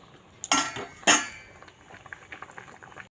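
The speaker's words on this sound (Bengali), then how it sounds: "কালো জিরাটা কড়াইতে তেলের মধ্যে দিয়ে দিলাম" Black cumin seeds dropped into hot oil in a wok for a lentil tempering give two sharp bursts of sizzling, followed by quieter crackling and spitting as the seeds fry.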